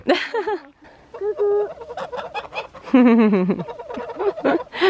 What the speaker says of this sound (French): il y a Néo qui est parti discuter avec les oies.